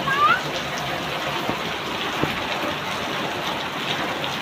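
Dense, steady rain with strong wind hisses and patters continuously, a broad wash of noise with faint voices in the background.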